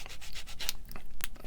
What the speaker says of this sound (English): I'm going to sand the inside a little bit as well